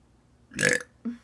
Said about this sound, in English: I burp all the time.